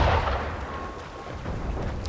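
Cannon fire in the Assassin's Creed 3 video game: a heavy booming blast at the start that rolls off into a rumbling, noisy wash, loud and close.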